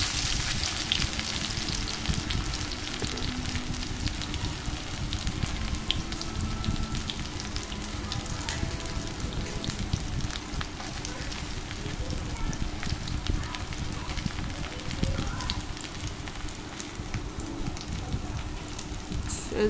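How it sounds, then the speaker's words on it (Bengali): Onions and green chilies frying in oil with black cumin (kalo jeera), giving a steady, dense crackling sizzle that runs evenly throughout, fairly close and continuous, with no talk. "এখানে পেঁয়াজ দিয়ে দেবো, পেঁয়াজ কাঁচামরিচ দিয়ে তারপরে"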